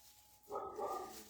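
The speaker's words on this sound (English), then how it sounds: "There goes my dog." A single dog barks once, short and muffled, somewhere off in the room, with no talking over it.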